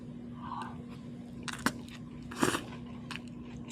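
Eating a raw fish rice bowl made with goby sashimi, home-grown vegetables and sweet chili-vinegar sauce: a faint close bite at the start, two soft crunchy chews later, over a steady low background hum.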